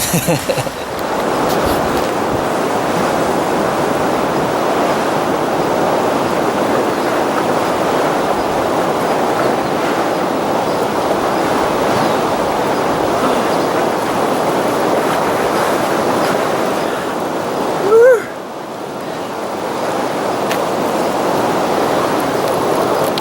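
Cold river water rushes in a loud, steady broadband wash for the whole stretch, broken by one brief splash-like burst near the end, with no voices heard.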